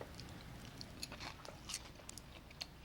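A crunchy appetizer is bitten and chewed, giving a few faint, crisp crunches scattered through a short, quiet stretch, close up with no talking.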